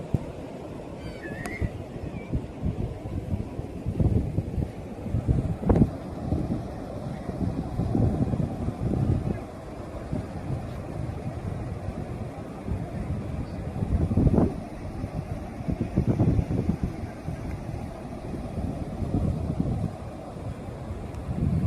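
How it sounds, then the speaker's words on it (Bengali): Sea waves at Dandi Beach roll in as a low, surging rumble with repeated swells, under heavy wind buffeting the microphone, and no voices are heard. "সমুদ্রের আওয়াজটা তোমরা শুনতে পাচ্ছ"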